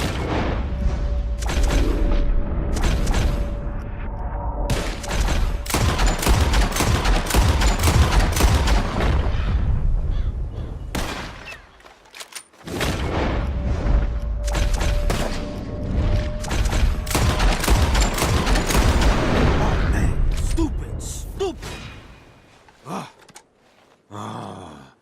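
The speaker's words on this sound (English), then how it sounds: "You shoot 4 birds out of the sky before me, you win." Rapid gunfire while shooting birds out of the sky in Red Dead Redemption 2: loud, dense volleys of overlapping shots and booms that run on for about ten seconds, pause briefly, then resume with equal intensity.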